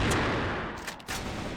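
Gunfire in a CrossFire match on the Compound map: a dense, noisy burst of shots with a couple of sharper cracks near the middle, sustained at steady loudness across the short span.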